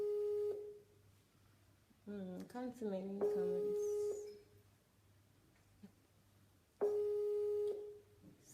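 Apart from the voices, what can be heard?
Skype call ringing, not picked up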